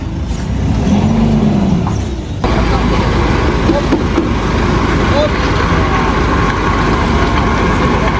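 A car is eased into position near a van terminal, its engine idling and rumbling steadily and close by, with a brief quieter stretch at the start before the engine noise fills the rest.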